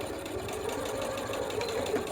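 A sewing machine stitching a zipper pouch runs steadily up close, a fast even mechanical whir with rapid rhythmic ticking throughout, and no voices.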